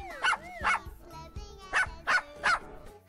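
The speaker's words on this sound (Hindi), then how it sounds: "ओह, मैंने पिल्ला भौंकते सुना।" A cartoon puppy barking in a 3D animated story, several short yappy barks in two quick bursts, loud and close, over a faint background.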